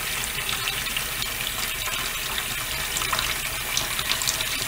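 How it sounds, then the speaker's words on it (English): Tap water runs steadily into a kitchen sink with the strainer closed, filling the basin for washing dishes; a constant close hiss and splash continues throughout with no talking. "the strainer is closed and the water level has started to increase"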